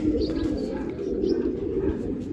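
Pet pigeons coo close by in soft, throaty murmurs, with a few faint chirps scattered over the low, continuous cooing.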